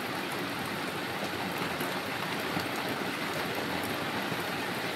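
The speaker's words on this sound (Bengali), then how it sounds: "কেমন বৃষ্টি হচ্ছে।" Heavy rain falling outside on a wet night, with a constant broadband wash of drops at moderate level, unbroken and uniform, and nobody speaking.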